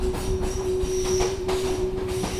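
A train rolls steadily along the rails, with continuous rumbling, a sustained wheel squeal and faint rhythmic clickety-clack from the carriages, close and unbroken with no voices.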